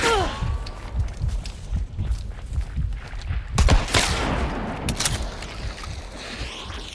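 Gunfire in the video game Hunt: Showdown: scattered sharp shots and low booms, with a heavy cluster of blasts midway, over ambient game noise with faint voices.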